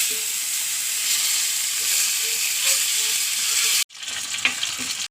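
Piloppi fish frying in a pan, a loud, steady hiss and sizzle close by, briefly cut, then resuming with crackling spatter as the fish is turned.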